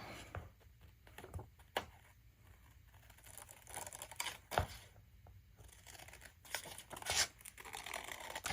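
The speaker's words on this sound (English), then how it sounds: "I'm deliberately not folding the paper and cutting these all exactly the same" Small scissors snipping green paper into little leaves, with a series of soft, irregular cuts and light paper rustles close by at low volume, the snips spaced unevenly.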